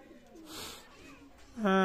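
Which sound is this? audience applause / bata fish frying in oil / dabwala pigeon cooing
dabwala pigeon cooing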